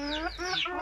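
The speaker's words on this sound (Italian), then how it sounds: "Vero pollo? Sì, che c'è un pollo." A hen clucks close by in a short burst of a few rising, throaty notes.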